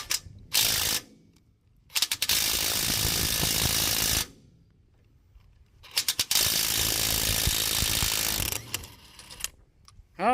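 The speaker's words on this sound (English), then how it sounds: "hopefully it's loose enough that we can at least get this nut off" A ratchet wrench loosening a tight nut on a trailer coupler, long runs of rapid metallic clicking in two extended bursts separated by pauses, close and loud with short clicks between, no talk.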